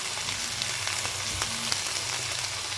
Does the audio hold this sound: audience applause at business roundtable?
no